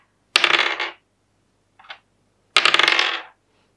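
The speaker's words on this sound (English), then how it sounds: "they've got that classic sort of plastic dice sound" Plastic dice from a Beadle and Grimm's sorcerer set rolling on a hard surface: two short clattering bursts with a tiny tap between, close and alone.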